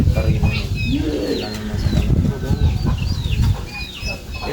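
Pigeons coo and murmur throughout a loft, soft throaty calls layered over one another, while people talk nearby.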